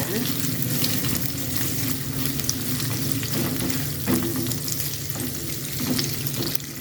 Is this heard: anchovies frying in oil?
yes